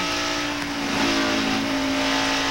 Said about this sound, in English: You can hear him getting in and out of the gas because of that pushing problem he has coming off of turn 4.